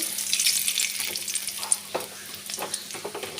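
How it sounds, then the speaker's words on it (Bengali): Spices hitting hot oil for an egg and chicken curry, a bright crackling sizzle that settles into irregular spits and stirring clinks, close and without speech. "তেলটাও গরম হয়ে গেছে এবার মশলাগুলো আমি দিয়ে দিচ্ছি"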